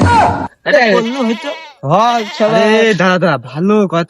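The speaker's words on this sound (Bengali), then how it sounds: "এত ছাগল ডাকছে কম এমনি" Goats bleat in a field at night, with wavering, repeated cries that run almost continuously and are mixed with people talking close by.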